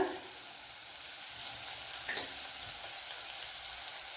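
Okra (ladies finger) sautéing with salt in a pan makes a steady, soft sizzle with a few light stirring scrapes, close and quiet with no talking.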